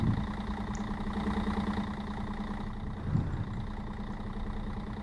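A MAN N4421 Centroliner Euro 3 city bus idles in the OMSI bus simulator game, a steady low diesel rumble with a faint ticking rhythm, even and continuous with no talking.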